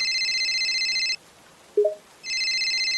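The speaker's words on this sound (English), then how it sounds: "Shall we answer this phone or refuse it, Sylvia?" A telephone rings in a short indie horror video game: two bright electronic ring bursts separated by a silent pause and a faint blip, loud and clean.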